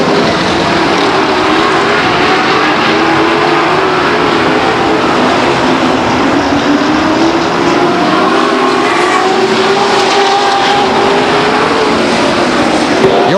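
Race cars lap the oval at Stockton 99 Speedway, a dense, loud continuous roar of many engines with pitch sweeping as cars pass, broadcast-style crowd and track ambience throughout.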